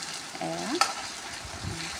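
Ginger, garlic, cumin and pepper paste frying with onions in a pan: a steady close sizzle with light stirring and one sharp utensil clink, no voices.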